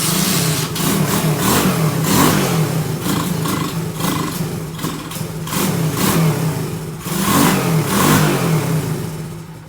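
A Honda Dax 70 fitted with a Lifan 125cc engine runs on choke, loud and close, its engine roaring through several rhythmic rev swells that rise and fall every couple of seconds.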